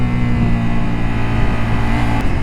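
A Ducati Multistrada V4 Rally engine, running on two cylinders, holds a loud, steady high-revving drone with a strong low throbbing note, close by and with no voices over it.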